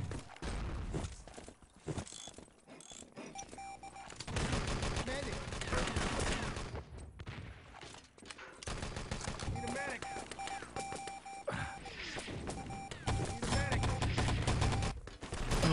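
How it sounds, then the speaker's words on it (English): Rapid rifle fire and grenade blasts from the video game Enemy Territory, with dense overlapping bursts of gunshots and explosions across a competitive match, with a commentator talking over the action. "Oh, look at all the rifles and nades"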